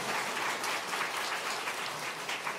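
Audience applause inside a church after a song, a continuous wash of clapping from many hands, even and moderately faint.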